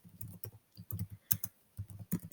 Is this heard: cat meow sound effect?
no